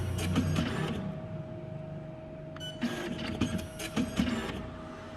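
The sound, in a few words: PLQ35 passbook printer running during setup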